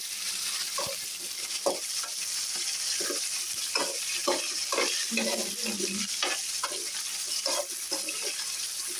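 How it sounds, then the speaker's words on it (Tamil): Tomatoes stirred and mashed in a frying pan, with a steady run of scraping, squelching strokes over a continuous sizzle. The strokes come close and clear, with no talking. "இப்போ அதை கொஞ்சம் கீழே மேலே வர மாதிரி கொஞ்சம் கரைச்சி செய்து விடணும்."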